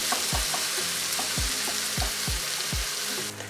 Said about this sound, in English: I'll be adding in 1 medium sized tomato finely chopped and just fry it. So the flame is high and I'll just fry it for around a minute.